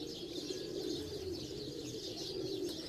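Pigeons gather on a rooftop during a pigeon-flying tournament, cooing and soft chirping close by in a steady murmur over a low outdoor background.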